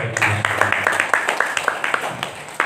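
An audience at a vocational school gathering in Serang claps loudly for a couple of seconds. The sharp, irregular claps come from a nearby group in a room, with a brief voice at the start.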